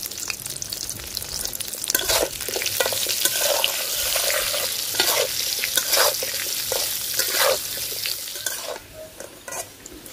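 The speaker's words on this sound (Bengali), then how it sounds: "আলু লাল লাল করে ভাজা নিছি" Potatoes cut into long sticks, seasoned with salt and turmeric, fry in hot oil with a steady loud sizzle, stirred now and then with a scraping utensil, the hiss easing slightly near the end.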